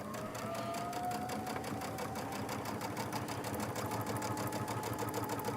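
Sewing machine stitching a table runner in a steady, continuous rapid whir of needle strokes, close and even, with no talk over it.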